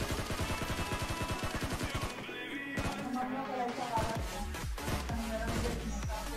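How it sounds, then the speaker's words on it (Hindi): Gunfire in the PUBG Mobile battle royale game, a rapid burst of sharp repeated shots followed by scattered louder reports and game sounds, loud and close throughout. "तो गाइस यहाँ पे कृष्णा ने भाई गोली चला दी थी डीपी के, लेकिन लगी नहीं भाई, नहीं तो भाई मेरा किल चोरी हो जाता।"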